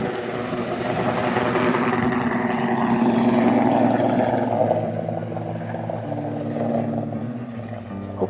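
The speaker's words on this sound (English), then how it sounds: "We wait patiently until the helicopter takes off." A helicopter lifts off from a bridge in the Florida Keys beside an ambulance, its steady rotor and turbine roar loud and continuous, with a sustained engine hum that shifts slightly in pitch as it rises.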